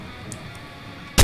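A single loud, sharp gunshot boom from a weapon in the ARK video game hits abruptly at the very end, after a quiet stretch.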